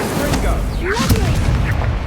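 Incendio fire spell cast during a Hogwarts Legacy dueling match, a brief whooshing magical burst with a booming impact around the middle, over steady game background noise.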